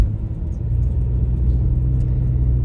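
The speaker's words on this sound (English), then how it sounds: "Uh-oh, we have a truck stuck again." A stuck truck's engine rumbles steadily and close, a low continuous drone that holds for the whole stretch with no voices over it.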